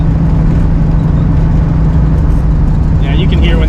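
A classic Bullitt Mustang with a 4-speed runs its engine hard, a loud, continuous throaty roar at high RPM with a slight wheezing edge, held steady for the whole stretch.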